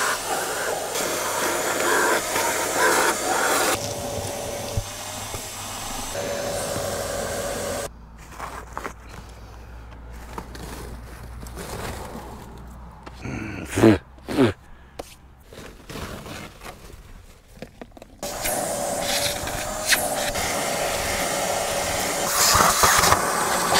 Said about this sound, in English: So I think I need to do a little bit of vacuuming.